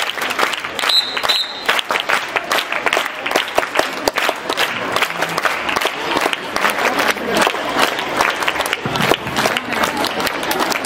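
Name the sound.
students clapping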